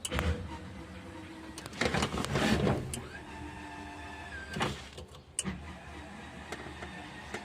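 A sprayer boom section lowering on the left side gives a motor hum with a louder burst partway through, then a brief ratchet-like clicking near the end, heard up close with no talking.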